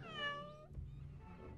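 A cat lets out one drawn-out, rising-and-falling meow close by, followed by a soft thump and quiet room noise.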